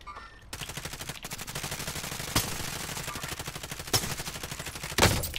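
Rapid automatic gunfire in a Call of Duty: Modern Warfare match, steady bursts of shots running through the whole stretch, with a few louder, sharper cracks standing out close by.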